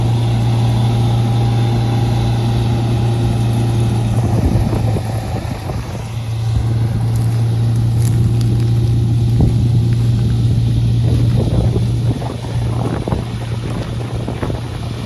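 A John Deere 52 combine harvester running on 17-8 pulleys drones with a steady, loud engine hum close by, wind buffeting the microphone throughout.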